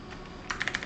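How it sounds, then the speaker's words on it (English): Keys clacking on a computer keyboard while editing code in Emacs: after a quiet half second, a quick run of five or six close, crisp keystrokes in an uneven rhythm, with no talking. "I pressed wrong keys on the keyboard."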